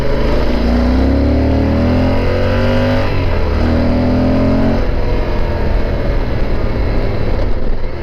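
An engine on the winding Tail of the Dragon road revs up in rising surges after a downshift, loud and close, then settles into a steady drone as the vehicle carries on through the curves.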